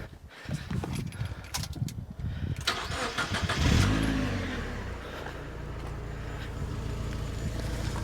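A Mazda MX5 fitted with a new exhaust cranks and fires up nearby, settling from a rising start into a steady, burbling idle that continues to the end.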